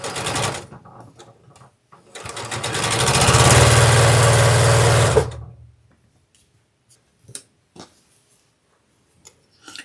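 A sewing machine stitches quilt fabric in a single loud, steady run of about three seconds, followed by quiet clicks and handling sounds.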